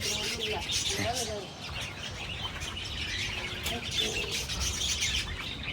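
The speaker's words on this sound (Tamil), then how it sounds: "நிறைய குருவி வச்சிருக்காங்க," Many sparrows chirp and twitter together in a busy, steady chorus, close and fairly loud, with a few broader calls and wing sounds mixed in over continuous background noise.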